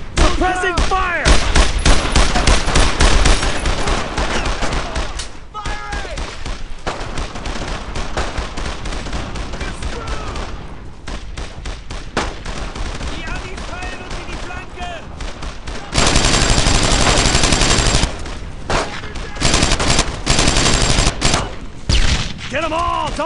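Heavy gunfire from a World War II squad shooter, Brothers In Arms Road To Hill 30, laying down suppressing fire: dense, sustained bursts of rifle and machine-gun shots with booming impacts, loud and continuous, under shouted soldier voices.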